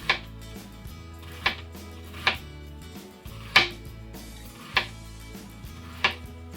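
A knife slicing lengthwise through half of a very large onion on a cutting board for a sweet and sour cucumber salad, six crisp, evenly spaced chops ringing out clearly with quiet gaps between.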